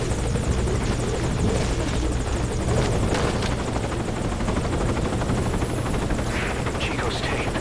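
Loud helicopter rotor chopping and engine whine at a landing zone in Metal Gear Solid 5 Ground Zeroes, continuous and close, with a voice talking over it.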